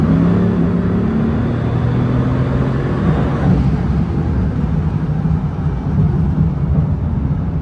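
Bugatti Veyron cruising on the road, a loud, steady engine and road drone from inside the car with a smooth low rumble and tire hiss throughout.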